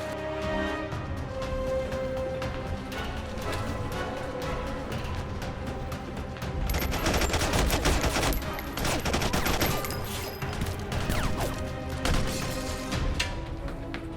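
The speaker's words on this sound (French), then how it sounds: "On fonce et on tire." Gunfire in an angels-versus-zombies sci-fi action movie: rapid, dense bursts of shots over a loud, busy soundtrack, growing heavier and more chaotic midway through.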